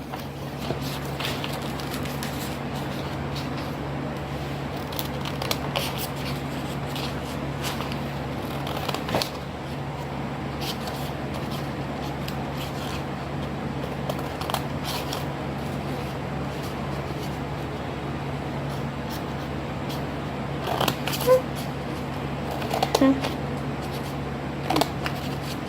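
Scissors snipping a folded paper snowflake for a kids' craft, with faint intermittent crisp cuts and rustling of paper, quiet and close with occasional slightly louder snips.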